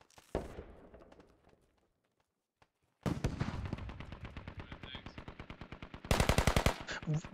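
Rapid bursts of automatic gunfire in the tactical shooter game Squad, loud and close, coming in repeated strings after a brief quiet gap, with one dense final burst.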